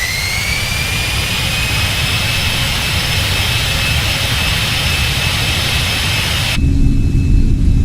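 Boeing 747 jet engines spooling up in a flight simulator, a loud steady roar with a rising whine that holds throughout, then shifts to a deeper rumble near the end.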